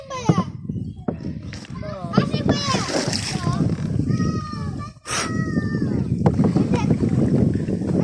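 Water splashing around a small rowboat on a village ride, irregular sloshes and splatters close by, mostly under lively chatter from children and adults.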